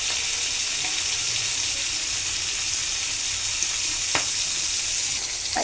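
Hilsa fish pieces fry in oil, a steady close hiss and crackle running throughout with a couple of sharp clicks near the end, no voices.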